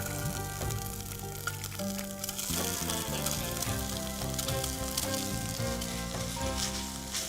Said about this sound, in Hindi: घी मेल्ट होने पे मैं इसमें डालूंगी कोकोनट।